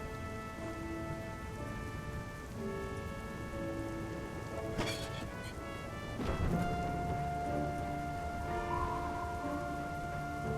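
Rain effect in the adventure video game Wallace & Gromit's Grand Adventures: a steady hiss of heavy rainfall with scattered drops under soft background music, broken by a couple of sharp thunder-like cracks midway.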